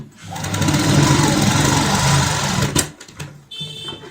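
A sewing machine runs steadily while stitching piping onto a cushion cover, a continuous close whir for most of the moment before stopping, followed by a few small clicks and handling sounds.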